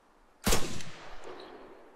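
A single 5.56 rifle shot from the video game ArmA 3 fires as a sharp, loud crack, followed by a decaying echo tail, with no talk.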